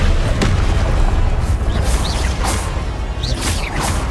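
An Incendio fire spell cast in the Hogwarts Legacy video game, a loud, continuous roaring blast with whooshing bursts and rumbling booms filling the whole few seconds, with no talking.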